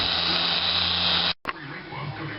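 A polisher spins at high speed against a cloudy BMW headlight lens, giving a loud, steady high-pitched whine that cuts off abruptly and then gives way to quieter rubbing and handling noise.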